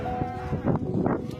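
A goat whose horns are caught in electric cables, clinging to a ladder, gives a couple of short, strained bleating calls over a rough, noisy background.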